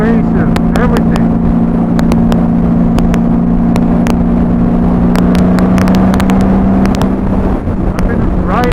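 A Honda Valkyrie motorcycle accelerates with a loud, close, steady engine drone and strong low hum, while a voice talks over it throughout.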